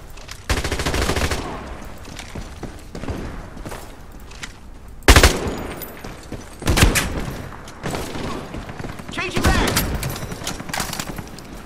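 Rapid automatic gunfire from a weapon in the video game Iron Sight, loud bursts with sharp heavy shots at intervals, firing in several separate strings.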